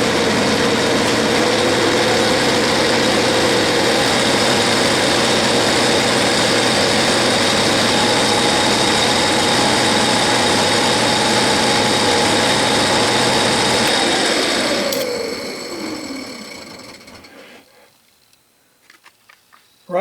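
A metal lathe turns a steel index pin with a diamond tool, a steady whining motor hum with faint cutting noise that winds down and fades near the end, followed by near silence.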